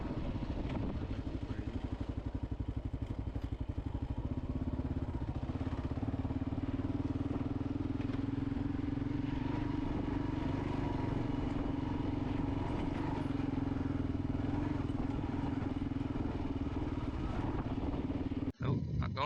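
A Kawasaki KLR dual-sport motorcycle engine drones steadily while riding near a lake, a continuous close rumble with wind noise that holds throughout and cuts off abruptly at the end.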